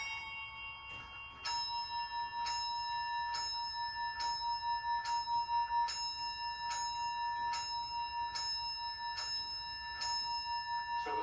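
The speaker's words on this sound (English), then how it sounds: "So you're having three bells, almost a musical note, and that's why this would be considered a Morbier Comtois clock" An antique Morbier Comtois tall case clock strikes a repeating sequence of bright bell tones, roughly one strike per second after a short pause, each ringing with a long sustained chime close by.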